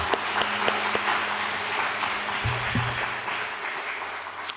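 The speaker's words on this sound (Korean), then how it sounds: "큰 박수 한번 하시죠." A church congregation gives a round of applause during an afternoon worship service, a steady moderate wash of clapping heard from a distance with a low hum underneath.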